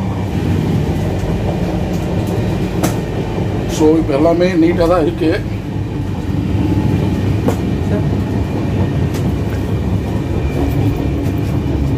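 The Bhubaneswar–Chennai Express rolls along the rails, a loud steady rumble with occasional clicks and clanks heard from inside a carriage, while someone talks over it for a few seconds.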